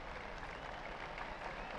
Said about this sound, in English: to a richly deserved applause from the South Melbourne faithful